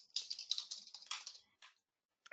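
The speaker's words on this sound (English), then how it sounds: "I'll just type in." Quick, light keystrokes on a computer keyboard patter in a short burst of typing, close and quiet, then stop briefly before a final couple of taps.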